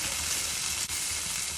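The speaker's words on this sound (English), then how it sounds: "Just sauteing some." Onion and peppers saute in olive oil, a soft, even sizzle that is fairly quiet and continuous, with one brief dip in the middle and no speech.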